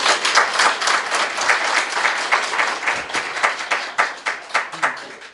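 An audience at a lecture in Osaka by a North Korean defector cartoonist applauds with dense clapping that thins out toward the end into a few scattered, separate claps.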